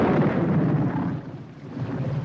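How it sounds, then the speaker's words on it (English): Thunder rolls and rumbles through a heavy storm in a 1958 film of A Tale of Two Cities, a steady, dense roar with rain underneath and no voices. "This is a storm indeed."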